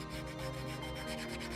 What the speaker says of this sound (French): Ensuite, il faut le poncer.